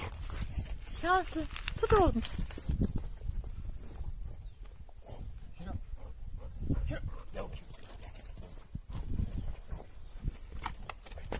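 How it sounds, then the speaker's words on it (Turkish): Farm dogs in a village are let loose to run to their food, with a couple of excited yelps early on and scrambling movement, while a person talks throughout. "Evet şimdi köpekleri salacağız."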